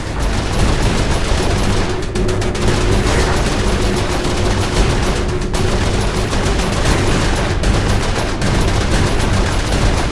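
Dense, loud gunfire rattles continuously in the video game Saints Row IV, with overlapping automatic bursts and heavy impacts filling the whole stretch.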